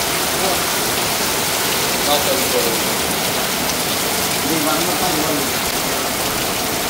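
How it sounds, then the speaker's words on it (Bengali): Heavy rain pours down in a dense, steady roar that stays constant and loud, with a voice faintly audible under it. "দেখেন আকাশ থেকে গড়গড়িয়ে কত সুন্দর বৃষ্টি হচ্ছে"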